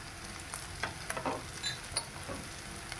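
Tomato and spices sautéing in hot oil for chole, a steady close sizzle broken by light stirring scrapes from a spoon against the pan.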